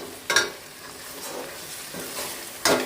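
Chicken and chopped tomatoes frying on a low flame, giving a soft steady sizzle with a few louder stirring scrapes near the start and end, no voices.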